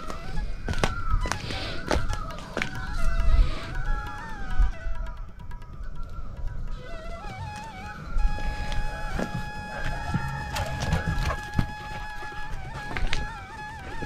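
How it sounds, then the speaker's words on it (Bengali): Morning birds in a Darjeeling hill village give loud goose-like honking calls, repeated and overlapping, fairly close, over an outdoor background. "পাখির ডাকে"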